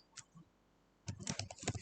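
A few light keystrokes on a computer keyboard while typing code, then a quick run of sharp, close clicks in an irregular rhythm, faint and alone in a quiet room.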